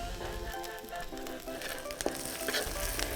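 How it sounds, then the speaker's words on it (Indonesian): Ground spice paste frying in a wok with lemongrass stalks, a steady, close sizzle with stirring clatter throughout, no voices. "masukkan bumbu yang tadi dihaluskan beserta batang serai. Masak hingga harum."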